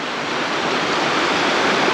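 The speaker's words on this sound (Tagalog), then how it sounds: "Itong sapa na to, galing to siya sa ice, sa glacier." A cold glacier-fed mountain stream runs over rocks, making a steady, loud, broadband rush of water that holds evenly throughout, with no voices.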